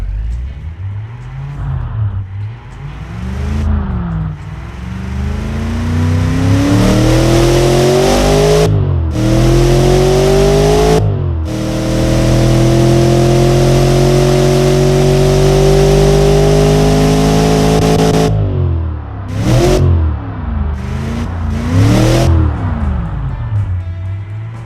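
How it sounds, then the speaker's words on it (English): A crossplane V8 engine in the Automation game runs loud and close, holding a smooth idle between several revving swells and drops, with short gaps where the sound cuts out. "The engine is very smooth at idle and at low RPM."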